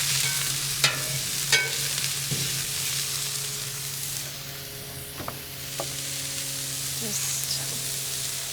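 Minced garlic and shallots sizzle steadily in a hot pan while making smashburgers, a constant close frying hiss broken by a few brief clatters from stirring or utensils.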